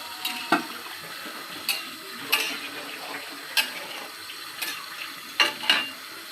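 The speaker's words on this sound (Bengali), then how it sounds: "এবার ঝোলের পানি দিয়ে দিল, এবার ঢেকে দিই।" Water is poured into a pot of country chicken curry with potatoes, a soft continuous trickle broken by several sharp clinks spaced a second or so apart, with no talk.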